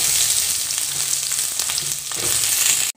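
Onions with dried and green chilies frying in hot oil in a kadai for tomato chutney: a steady, close, loud sizzle that carries unbroken for the whole stretch, with no voices.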